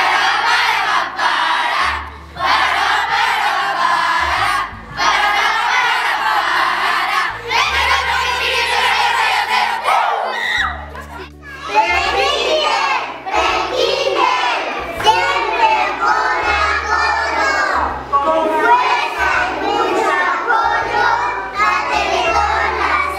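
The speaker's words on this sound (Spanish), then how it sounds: "los invitamos a ver nuestros gritos de apoyo a la Teletón" A crowd of school children at Escuela José de San Martín loudly shout rhythmic support chants and cheers for the Teletón, bursts of massed young voices with short pauses between chants, sustained and close.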